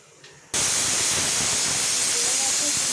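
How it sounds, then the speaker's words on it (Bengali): A pressure cooker of khichuri lets off steam: after half a second of near quiet, a loud, close, continuous hiss bursts out and holds steady to the end, with no talking. "3টে সিটি পড়লে তারপর দেখব এটা কেমন"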